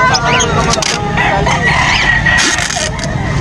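A rooster crows amid the busy din of a pet market, its call rising over constant crowd chatter and other bird clucks nearby.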